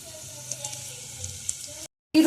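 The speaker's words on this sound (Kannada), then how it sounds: "ಎಣ್ಣೆಗೆ ಸುಯಿ ಅಂತ ಹಾಕುವ ಈರುಳ್ಳಿ ಮತ್ತು ಬೆಳ್ಳುಳ್ಳಿ" Onion and garlic sizzling in hot oil, a soft steady hiss with faint crackles close by, cut off briefly before a louder burst at the end.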